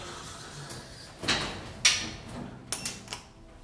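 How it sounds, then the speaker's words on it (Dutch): The doors of a 2013 OTIS Gen2 machine-room-less traction elevator in a parking garage in Ghent slide open quietly, with a few soft clunks and rattles over a faint background hum. "De deuren gaan open."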